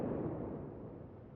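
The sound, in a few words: torpedoes hitting the Tirpitz battleship in World of Warships video game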